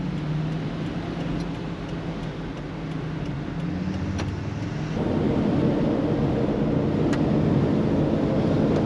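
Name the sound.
Earthcruiser overland truck driving on the road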